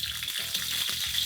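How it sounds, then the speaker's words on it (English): Spring onions sizzle and crackle in two tablespoons of hot oil in a wok, a steady bright frying hiss with soft stirring scrapes pulsing through it, close and alone. "I'm going to heat 2 tablespoons of oil. And I'm going to add half a cup of spring onions"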